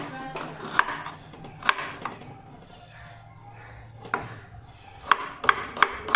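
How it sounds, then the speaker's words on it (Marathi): A knife chops onions for a tomato chutney, giving sharp, close knocks on a cutting board in an irregular rhythm, with a quick cluster of strokes near the end and quiet talk between the cuts. "मी कांदा आत्ता कापून घेतो आहे"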